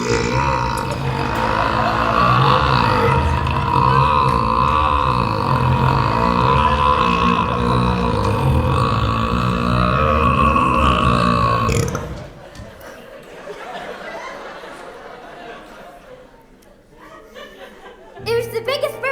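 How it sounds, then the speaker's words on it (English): One long, loud, drawn-out burp from a stage musical production of Matilda carries on for about twelve seconds, followed by quieter chatter and laughter. "It was the biggest burp ever done."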